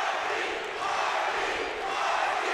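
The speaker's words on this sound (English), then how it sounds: "Crowd getting behind Mikey." A steady, dense roar from the crowd at an MMA bout between Perry Stargel and Mikey England, cheering behind Mikey late in the third round, sustained and even with no breaks.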